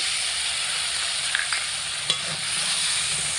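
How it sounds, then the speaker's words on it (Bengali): Spice paste frying in a pan while being stirred, a steady close sizzle with a few sharp scrapes and clicks of the spoon against the pan. "এইভাবে অনবরত নাড়াচাড়া করে ভালো করে মশলা কষিয়ে নিয়েছি"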